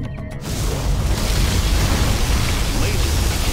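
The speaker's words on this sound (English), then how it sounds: "Particle cannon activated" A particle cannon fires in the video game Command & Conquer Generals Zero Hour: after a brief start, a loud, steady, broadband roar rumbles on without letting up for about three seconds.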